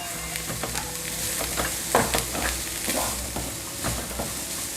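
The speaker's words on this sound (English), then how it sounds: "Now let's saute it." Capsicum and onion sauté in a hot pan, a steady sizzle and crackle broken by the occasional scrape and clink of a spatula stirring, close and moderately quiet.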